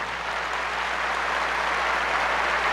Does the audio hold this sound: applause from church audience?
yes